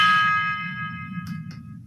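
A bell sound effect played through a small HW-896/JQ6500 MP3 player module, a bright struck ring that decays over a low electrical hum, followed by a couple of brief clicks.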